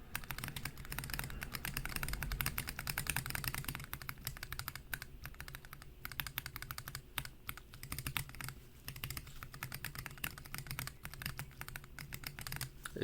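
Steady rapid typing on a switch tester holding Zeal Zealios and Healios mechanical keyboard switches, a close, quiet stream of clicky keystrokes alone, with no voices.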